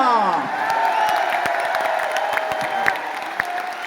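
A large crowd at a stadium event in Delhi's Tyagraj Stadium applauds while voices cheer and call out over the clapping, a dense, lively roar that stays level throughout.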